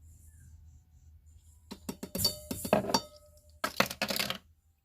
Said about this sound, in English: Let's give it a little mix.